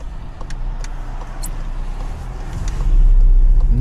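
Interior engine hum of a manual-transmission car easing to a gentle stop, a steady low rumble that swells slightly louder near the end, with faint road noise and no talking.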